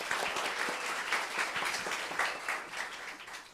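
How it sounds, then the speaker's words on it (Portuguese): An audience breaks into applause at an evening talk on psychic investigation, a dense wash of many hands clapping that stays steady and then thins slightly toward the end, heard from within the room. "Uma salva de palmas para o senhor."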